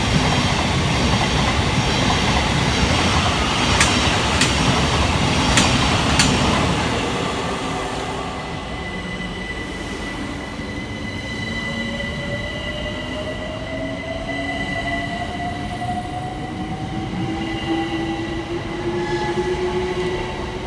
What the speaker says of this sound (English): we see the departure of 378 208, working the 1646 London Overground service from Crystal Palace through to Highbury and Islington